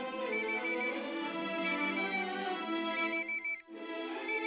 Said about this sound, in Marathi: एवढ्या रातच्याला कोणाचा फोन आलाय?